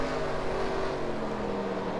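A modified race car engine in NASCAR Racing 2003, running at Eldora, gives a steady, continuous droning roar with a constant pitch throughout, heard alone with no talk.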